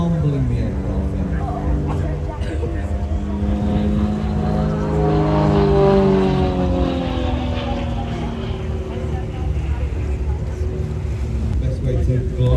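An aerobatic plane's engine at an air show roars loud and steady while the pitch sweeps up and then back down during a wing-over manoeuvre, with no pause across the whole pass.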